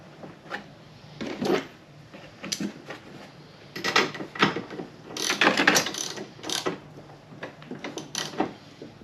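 A ratchet wrench clicks in irregular bursts while a fresh spark plug is snugged into a snow blower engine, the close, sharp ratcheting strokes loudest in the middle of the stretch.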